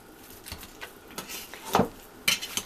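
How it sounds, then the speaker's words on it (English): Meatloaf mixture with grill seasoning being mashed by hand or utensil in a bowl, giving soft scattered squishes and a few sharper clinks against the dish, quiet and close, with no voices. "then I mash it all up"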